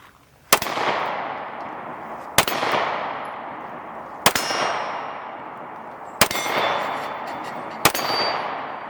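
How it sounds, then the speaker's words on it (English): An H&K VP9 pistol fires five sharp, loud shots outdoors, spaced about two seconds apart, each with a ringing, decaying tail. "We're going to shoot it, see how it runs."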